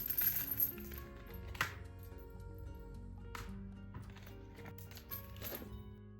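A small screw and a metal zipper end, fitted while finishing a sewn crossbody bag, clink faintly a few times over steady background music.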